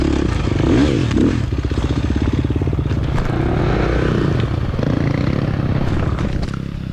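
A 2023 KTM 350 XC-F dirt bike racing in a scramble, its engine droning loud and close with steady revving and clattering over rough ground throughout.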